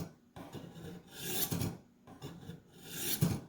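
A Kabar knife is drawn across a Warthog knife sharpener in repeated rasping strokes, roughly four scraping passes separated by short quiet gaps, close and fairly soft.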